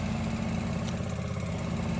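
In Farming Simulator, a tractor engine idles with a steady, even low hum that does not change across the moment, and no voices are heard.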